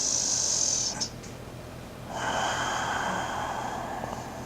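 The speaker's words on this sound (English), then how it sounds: "Couple deep breaths in and out" Deep breathing in and out while holding a downward yoga stretch: a hissing inhale, a brief pause, then a longer airy exhale, close and steady, with no talking.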